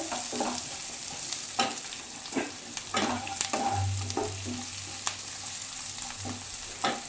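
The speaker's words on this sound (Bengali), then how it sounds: "টমেটো কুচিটা একটু নেড়ে নেবো ভালোভাবে।" Chopped tomato frying with garlic in a pan for butter chicken, stirred with a spoon: a constant sizzle under repeated scraping strokes at uneven intervals, close and clear, with no talking.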